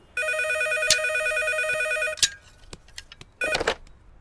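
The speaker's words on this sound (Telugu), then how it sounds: "ఈసారి ఫోన్ మోగుతుంది మన రూమ్ లోనే" A telephone rings inside a room: one long, bright electronic ring, a few soft clicks, then a second ring starts, close and fairly loud with no voices.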